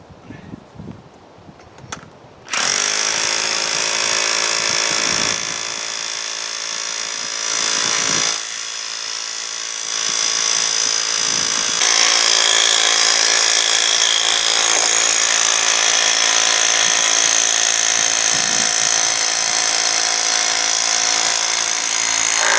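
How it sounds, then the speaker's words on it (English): A rotary hammer driving shed foundation stakes gives a loud, continuous power-tool whine with a harsh buzzing drone, running almost without a break after a short quiet start, dipping briefly a few times. "So I'll put them in with the rotary hammer."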